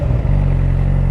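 A motorcycle engine gives a brief, steady, loud low rumble close by, without any clear rise in revs.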